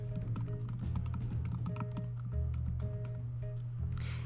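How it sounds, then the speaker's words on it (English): Text typed on a computer keyboard, a quick run of close, light key clicks over a steady low background hum. "and then you can type the submit text."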